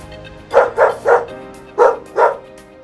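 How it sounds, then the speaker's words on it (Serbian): A dog barks five times in two quick groups, three sharp woofs then a short pause and two more, loud and close with nothing else around them. "Pas."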